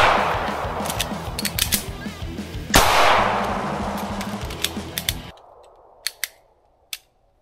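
A Staccato XC pistol fires rapid shots during transition drills at 5 yards, a dense string of sharp loud cracks with ringing echo, followed by a few isolated clicks and taps as the firing stops.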